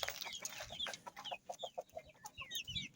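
Young Turkish Shamo chickens cluck and chirp close by, a run of short rhythmic clucks in the middle with higher peeping calls scattered around them, over a faint background rustle.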